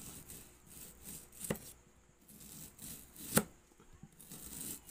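An onion chopped on a board for pork and oyster mushroom lumpia gives faint, close knife taps and cuts, with two sharper chops standing out over a quiet background.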